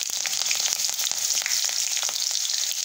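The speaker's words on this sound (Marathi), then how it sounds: "आपलं तेल गरम झालेलं आहे। आपण मोहरी टाकून घेऊ।" Mustard seeds crackle and sizzle in hot oil in a pan for upma, a steady, dense fizz with scattered sharp pops throughout and no talking.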